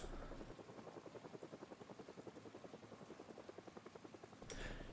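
A helicopter heard quietly in the distance gives a steady, rapid rotor thump that beats evenly for several seconds under a faint background hiss.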